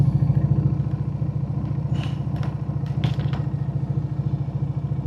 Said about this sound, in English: we're just doing a test ride on this bike